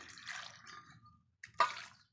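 Two short bursts of water splashing and pouring into a cooking pot for pumpkin erissery, separated by a brief pause, fairly quiet and close.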